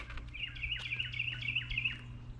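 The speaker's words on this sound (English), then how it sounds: "I heard a bunch of peeping." Baby robins in a nest give a rapid run of high thin peeps, repeated chirps close by over a low steady background hum.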